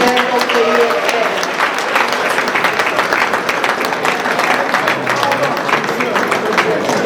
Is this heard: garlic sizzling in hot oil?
no